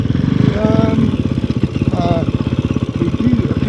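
A Kove 450 Rally motorcycle being ridden in Africa, its single-cylinder engine chugging in a loud, steady, close pulsing beat, with a voice speaking over it.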